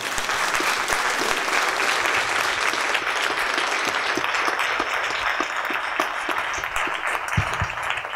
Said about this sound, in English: Could you give our candidates applause